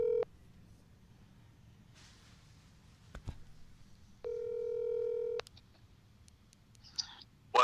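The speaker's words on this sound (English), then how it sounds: "see if we can call him up and get him on the phone here" A phone call being placed: a steady tone stops, then comes a pause with a few clicks, a longer held tone, and brief beeps at the end, all heard faintly from close by.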